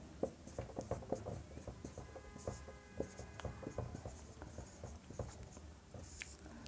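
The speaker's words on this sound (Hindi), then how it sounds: "तो लिखते हैं इसी चीज़ को," Pen or chalk writing during a Class 12 physics lecture on electric charge and field, heard as steady scratchy strokes and taps continuing throughout at close range, with faint background murmur.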